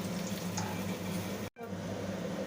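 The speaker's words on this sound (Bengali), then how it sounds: "পকোড়াগুলো ভেজে নেওয়ার জন্য তেলটা গরম করে নিয়েছি, এবার দিয়ে দেব" Cauliflower pakoras frying in hot oil, a soft continuous bubbling hiss with a low hum beneath, broken by a brief dropout midway before the steady frying resumes.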